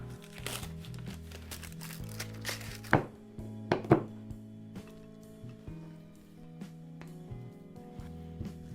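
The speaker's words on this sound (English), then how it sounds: "now we're gonna cut our dark chocolate" A knife chopping through dark chocolate on a board, a run of quick close cuts at first, then a few sharper separate chops and softer scraping taps, with no voices.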